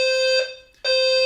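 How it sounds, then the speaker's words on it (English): A fire alarm sounds a loud, steady electronic tone at a stadium during a college football game, breaking off briefly near the middle before resuming at full strength. "Yeah, fire alarm is going."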